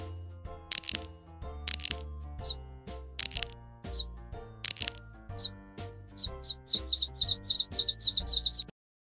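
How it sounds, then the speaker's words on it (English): A cartoonish hatching scene: a few sharp cracks of an egg shell breaking, each followed by a small high chirp, then a quick run of repeated bright peeps from a baby bird, close and clean with musical tones underneath. "The baby bird is hungry."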